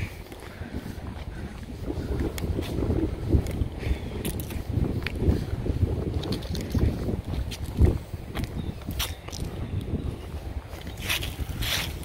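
Wind blowing outdoors in a cemetery, a steady low rumbling gust with intermittent rustles and faint clicks throughout, no voices.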